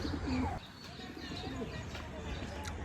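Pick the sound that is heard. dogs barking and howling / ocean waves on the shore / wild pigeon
wild pigeon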